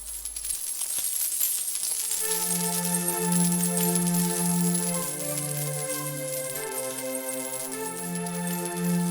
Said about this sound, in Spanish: descubrió una lluvia de monedas de oro que empezó a surgir como si fuera un